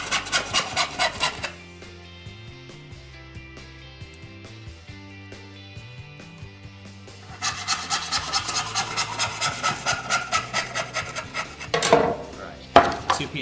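Hand saw cutting wood for a trestle bench, with rhythmic rasping strokes at the start, a quieter stretch between, then steady repeated strokes returning near and loud.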